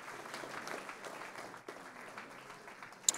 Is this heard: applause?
yes